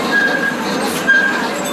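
A Chance amusement park train ride rolls along at an outdoor park, giving a steady mid-level rumble with faint metallic squeals from the wheels.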